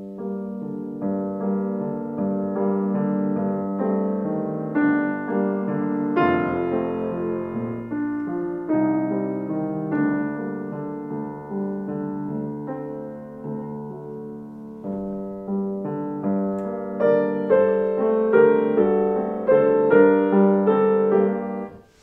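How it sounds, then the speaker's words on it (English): Solo piano plays Mendelssohn's Venetian Boat Song, Song Without Words Op. 19 No. 6, in a home studio: a gently rocking, flowing melody over a steady lilting accompaniment, sustained and continuous, with no voices. "This is one of the Venetian boat songs. It sounds like this."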